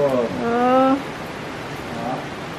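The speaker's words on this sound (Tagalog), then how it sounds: "Ay, ang ganda ng ulan." Rain falls steadily on a Philippine morning as a soft, even hiss, while a person talks over it near the start and again briefly near the end.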